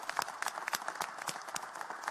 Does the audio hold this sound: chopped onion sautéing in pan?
no